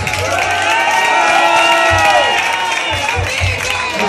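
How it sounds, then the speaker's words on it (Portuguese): An audience at a metal show in a pub in Londrina cheers, shouts and applauds loudly throughout, with voices rising out of the crowd noise and occasional low thumps beneath. "Uma salva de palmas aí pra vocês."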